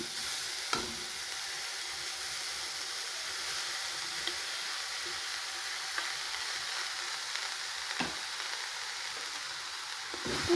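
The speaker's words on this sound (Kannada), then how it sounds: "ಈಗ ನೋಡಿ, ತುರಿದು ಇಟ್ಕೊಂಡ್ರೆ ಮೂಲಂಗಿ ಹಾಕ್ತಾಯಿದ್ದೀನಿ" Grated radish frying in a pan for a radish palya, a steady soft sizzle with a few brief clinks and stirring knocks, fairly faint and with no talking.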